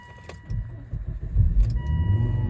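A 2002 Volvo S60 2.0T five-cylinder turbo petrol engine idling and revving up, a low uneven offbeat throbbing rumble that swells, recorded close with some faint rattling.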